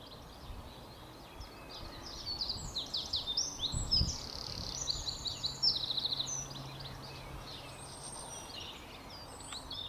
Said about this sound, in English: it sounds like all the birds are out singing because spring's coming